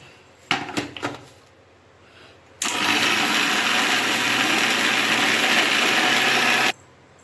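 A mixer grinder blends red chili powder and coriander powder into a paste. A few clicks and knocks from setting up the jar come first, then a loud, steady whirring roar runs for about four seconds and cuts off.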